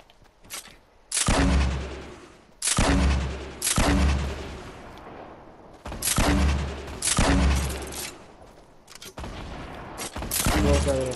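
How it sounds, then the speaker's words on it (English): Heavy grenade launcher blasts and gunfire in the video game Fortnite, a series of loud booming explosions in irregular bursts with crackling shots between, dense and close. "Yeah, I got a grenade launcher"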